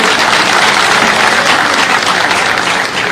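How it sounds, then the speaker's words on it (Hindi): Audience at a comedy poetry gathering in Indore clapping loudly, dense sustained applause throughout, dipping briefly near the end. "जोरदार ताली बजाओ"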